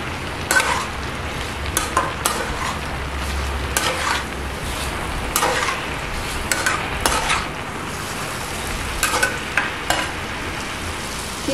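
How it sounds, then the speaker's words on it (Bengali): Potatoes sautéed dry with spices in a pan, no water added, giving a steady sizzle broken by repeated scraping and clinking stirs of a spoon against the pan. "মশলার সঙ্গে আলুগুলোকে একটু কষিয়ে নিচ্ছি। জল ছাড়াই আমি প্রথমে কষাবো।"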